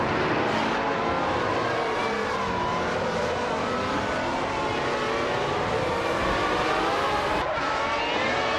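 Multiple race cars roar continuously in a racing video game, with layered engine whines sweeping up and down in pitch as the cars jostle at close range, loud and steady throughout.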